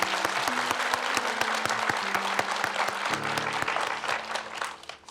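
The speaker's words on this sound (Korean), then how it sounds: "우리 저분을 위해서 박수 한번." An audience at a Buddhist Q&A talk session claps steadily. The dense applause stays near and full for several seconds with a few sharper individual claps, then tapers off at the end.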